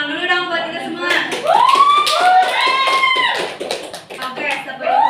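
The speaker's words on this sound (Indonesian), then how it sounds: "tepuk tangan dulu dong buat kita semua" A class of schoolchildren and their teacher clap their hands together in a short burst of close, crowded claps, mixed with excited children's voices and chatter throughout.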